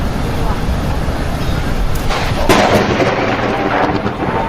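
Thunder from a lightning strike on a tower at an amusement park rumbles loud and broad, swelling partway through over heavy wind or rain noise, with no clear pause in the din.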